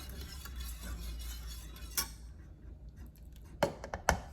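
Homemade Alfredo sauce stirred in a pan with a utensil, from a thickened flour paste loosened with milk. Quiet scraping and low rustling give way to a few distinct metallic clinks against the pan near the end.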